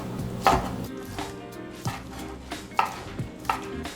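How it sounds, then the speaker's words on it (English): Knife cutting through cooled, tender braised pork belly on a board: a few sharp, separate chops at an uneven pace, close and fairly clear, with no talking. "So our pork belly has cooled, so I'm gonna go ahead and cut."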